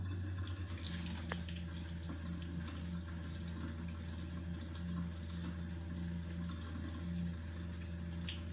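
A Mizudo tankless under-sink reverse osmosis filter runs its flush cycle, giving a faint steady water rush over a constant low motor hum with a pulsing tone, continuous and quiet.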